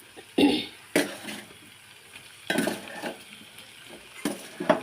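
Taro pieces tipped into a pan of cooked-down tomato and stirred, a few sharp clattering scrapes and thumps of a spoon against the pan, close, separated by quiet gaps.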